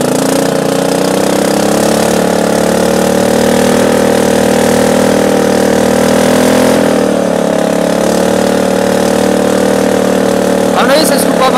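A racing lawn tractor's engine drones loud and close, holding a steady mid-pitched roar that rises slightly as it accelerates, then shifts near the end with a brief clatter.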